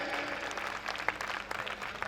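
An audience claps steadily through a Hindi comedy poetry show, a dense, even wash of applause from a crowd with no break.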